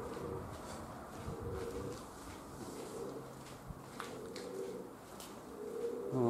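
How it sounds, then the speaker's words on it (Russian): Young pigeon, tailless and moulting, cooing softly on a hot day amid outdoor background noise, with low murmuring coos spread through the stretch and no clear talk. "Молодой голубь. Молодой."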